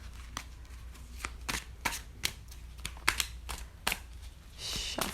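Thick tarot cards being shuffled in quick, uneven riffles and taps, close by and crisp, with a soft rustle near the end; no talking.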